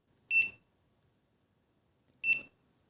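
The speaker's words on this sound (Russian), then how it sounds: "В режиме прозвонки звучит сигнал, когда сопротивление между щупами меньше 50 Ом" A WinAPEX 268B digital multimeter in continuity test mode gives two short, identical high-pitched electronic beeps about two seconds apart, each lasting a fraction of a second, clear and alone against silence.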